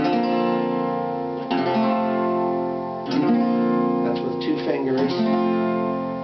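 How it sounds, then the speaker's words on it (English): Acoustic Harmony Hollywood guitar in open D tuning, strummed chords ringing out sustained and close, shifting into suspended voicings as new strums sound every second or so, with no talking. "And then you can suspend the chord this way."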